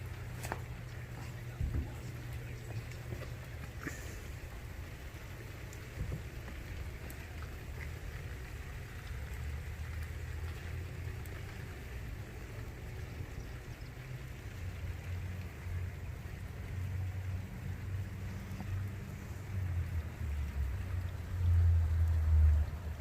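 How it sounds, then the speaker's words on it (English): Light rain during a thunderstorm, a steady soft patter over a low rumbling background that swells slightly near the end, with no thunder or voices. "You can see it started to rain now. It's not raining heavily though."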